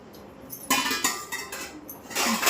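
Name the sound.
child putting metal bowls into a container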